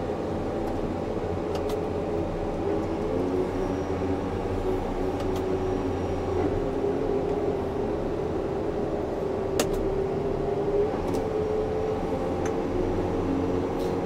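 Case IH 9RX tractor pulling a Horsch Fortis cultivator through a field at working speed, a steady low engine drone with a constant hum heard from inside, occasional faint clicks.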